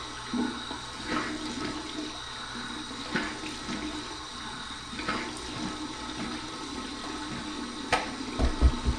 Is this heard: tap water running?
yes